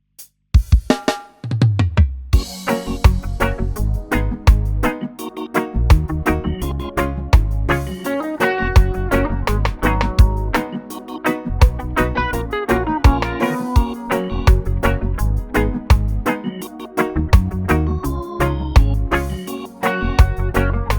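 A polished reggae beat after mixing plays loud and full, with punchy drums, deep bass and offbeat skank chords repeating steadily throughout, no voices.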